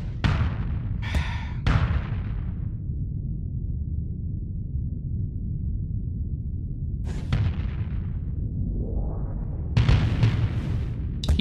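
Missiles slam into a ship in the space combat game Starsector, a cluster of sharp explosive bursts at the start, then a low rumbling hum before more booming impacts near the end.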